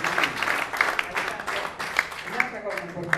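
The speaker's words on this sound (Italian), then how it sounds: "un applauso anche a Marco Piras e Andrea Tattina." Applause from an audience at a press conference for the 2014 Tempio carnival, steady clapping over the whole stretch with a few sharper individual claps standing out.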